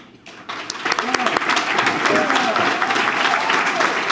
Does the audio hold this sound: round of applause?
yes